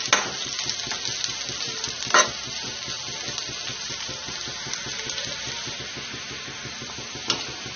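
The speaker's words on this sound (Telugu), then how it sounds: "ఇప్పుడు ఇదే ఆయిల్లో ఉల్లిపాయ ముక్కలు వేసుకోవాలి." Sliced onion frying in hot oil, a steady dense sizzle and crackle throughout with a couple of louder pops, close and alone with no talk.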